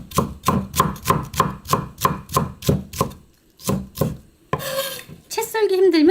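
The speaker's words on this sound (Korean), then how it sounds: "곱게 채를 썰어주세요." A knife slices green onion (daepa) finely into thin strips on a cutting board, about a dozen quick, even chops, close and crisp, then a pause followed by clattering and rustling as the pieces are gathered.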